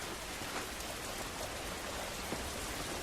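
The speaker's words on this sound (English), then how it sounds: "This rain ain't gonna do us any good." Steady rain in The Last of Us pours down in a dense, even hiss with scattered droplet patter, continuous and enveloping with no voices heard.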